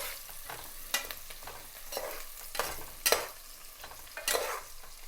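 Ingredients frying in a pan for cabbage masala pappu, a gentle sizzle punctuated by rhythmic scraping stirs every second or so, close and moderately quiet with no talking.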